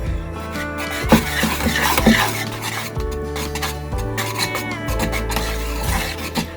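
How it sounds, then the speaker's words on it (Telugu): Spoon working smooth, lump-free batter for rose cookies in a bowl, a steady scraping and rubbing stir that repeats in rhythmic strokes, close and fairly loud with no talking over it. "లంప్స్ ఏమీ లేకుండా బాగా కలుపుకోవాలి"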